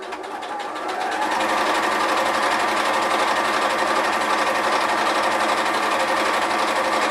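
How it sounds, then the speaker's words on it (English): A sewing machine runs steadily, stitching the seam of a slip pocket for a bag at a 3/8-inch seam allowance; after a brief start it holds a loud, even, continuous whir for several seconds with no talking. "I am stitching at 3/8 of a seam allowance."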